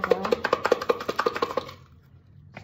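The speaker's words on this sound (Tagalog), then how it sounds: "Medyo namuo yung bawang powder ko, kaya kailangan ko siya taktakin para mabuhog talaga." About a dozen quick, sharp taps in a fast even rhythm as a container of clumped garlic powder is knocked to loosen it, close and crisp, then quiet.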